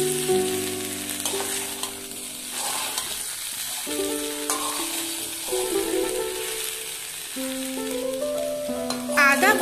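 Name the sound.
ginger frying with potato and pumpkin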